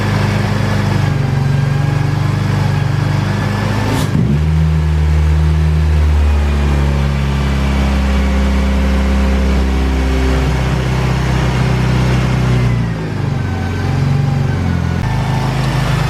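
Car engine idling low and loud, then revving up and settling as the throttle is pushed, with a sharp change around four seconds and pitch shifts throughout; no talk.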